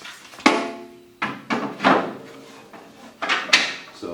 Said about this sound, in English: Being able to remove our center access panel here.